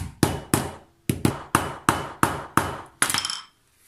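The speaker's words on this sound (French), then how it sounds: "Hop, et coup de marteau." Sharp hammer blows strike a leather card holder in a steady series of about eight evenly spaced, loud, close knocks, the last one ringing slightly before silence.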